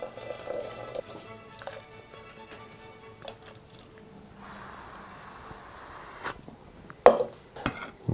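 Choux dough for lamb chebureki being mixed with boiling water in a bowl, with scattered clinks and scrapes of utensil against dish and soft stirring, fairly quiet, with a sharper clatter near the end.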